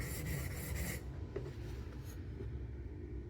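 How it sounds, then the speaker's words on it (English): A knife blade drawn across a coarse sharpening stone with the focus at the tip, a few soft rasping strokes close by, the first a bit louder. "It only takes a couple strokes on a coarse stone like this with direct focus at the tip."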